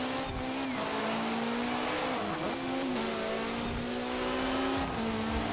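A Caterham Superlight R500 in the Forza Horizon 4 video game holds a steady engine drone, with pitch dips as it brakes and coasts through a corner and light tire noise underneath. No one talks.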